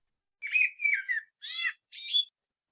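Replayed recording of a bird chirping: a pair of sliding whistled notes, then two separate buzzy warbling bursts, crisp and close against dead silence.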